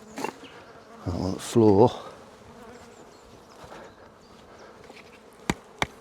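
Honey bees buzz around the front of a beehive as they are shaken out, a close swarming hum with loud passes of individual bees, briefly under a short spoken remark and a few sharp knocks.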